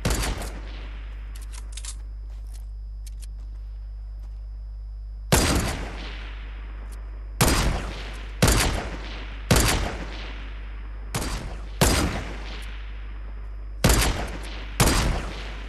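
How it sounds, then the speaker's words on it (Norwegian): Bursts of rapid gunfire in the video game Fortnite, roughly nine sharp loud volleys spaced a second or two apart over a steady low hum, with a faint crackle of lighter shots early on. "Du må spare litt på skudd"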